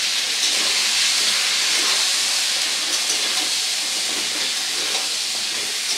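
Pointed gourd (potol) frying in oil in a pan with salt and turmeric powder added, giving a steady, dense hiss and sizzle that holds evenly throughout with no talking.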